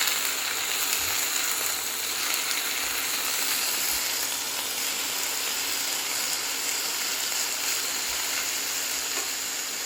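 Burdock root seasoned with soy sauce stir-frying in a wok over high heat, a steady loud hiss and sizzle throughout with a few soft scraping knocks underneath.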